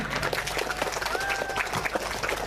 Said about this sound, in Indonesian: Beri aplaus untuk anak-anak kita semuanya.